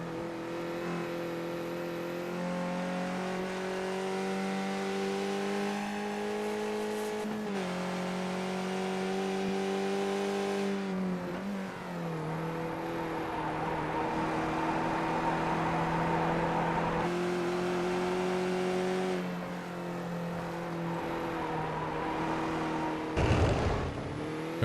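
Race car engines howl at Watkins Glen in a racing video game, steady harmonic drones that rise and fall with shifts and corners, one engine sounding rough as if troubled, continuous throughout.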